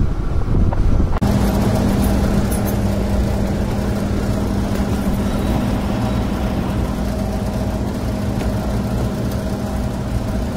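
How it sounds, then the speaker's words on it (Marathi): Motorcycle ridden faster on a road, a steady engine drone with strong wind buffeting across the microphone throughout, loud and close. "तर इथून जरा फास्ट घेतो गाडी"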